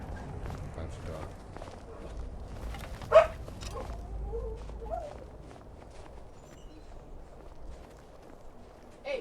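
Dogs run and bark in the video game Skyrim, with scattered yelps and pattering footsteps over game ambience and voices.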